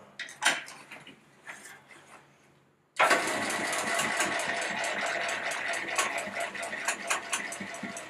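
A sewing machine stitches around the front panel of a bag: a few seconds of quiet handling, then the motor kicks in and runs steadily with a close, continuous whirring chatter.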